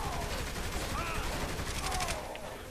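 Submachine gun fire in Saints Row: The Third, a dense continuous rattle of shots in a chaotic firefight against riot-shield enemies, loud and sustained with a brief voice partly underneath.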